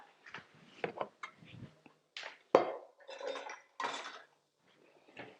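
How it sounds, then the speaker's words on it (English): Drained noodles being tipped back into a metal pot, giving a run of scattered clinks, knocks and soft wet thuds, with one sharp clang in the middle, close and fairly quiet. "So I'm actually going to take them from drained straight back into the pot"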